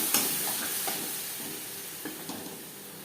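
Onions frying in a pan for a prawn malai curry, with spice paste going in, give a steady low sizzle alone, broken by a few soft scrapes and clicks of stirring.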